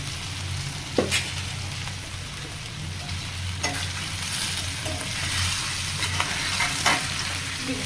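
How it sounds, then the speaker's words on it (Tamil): Fish fries in an oiled pan in a Velachery-style fish fry, giving a steady close sizzle broken by a few sharp scraping clicks as the pieces are stirred. No voices are heard. "பாருங்க, ஃபிஷ் ஃப்ரை."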